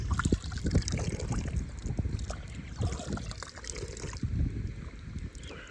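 Irrigation water runs and splashes steadily into a farm field, a continuous close trickle and gurgle with brief louder sloshes and no talking.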